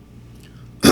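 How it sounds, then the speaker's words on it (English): A short, sharp throat clearing from a podcast host, one loud burst right at the end after near silence. "gotta clear my throat"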